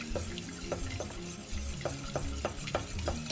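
Milk is whisked into a chicken quiche mixture in a bowl, a whisk clinking and scraping in quick repeated strokes with a wet, sloshing texture, close and steady with no talking.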